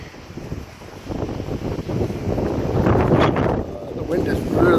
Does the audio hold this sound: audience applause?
no